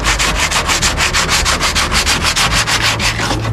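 Car body work sanded by hand, a loud, close, rhythmic rasp of rapid even back-and-forth strokes at about six per second, steady throughout with no talk.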